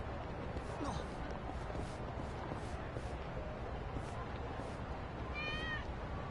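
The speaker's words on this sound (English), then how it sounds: "I heard a cat" A cat meowing in the video game Kaito Files, one short, fairly faint meow late in the clip over a dense, noisy game background.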